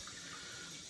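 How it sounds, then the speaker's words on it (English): Cold water running from a tap in a short, steady, faint trickle and splash, heard alone without any voices. "Cold water."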